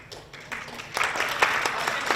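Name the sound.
applause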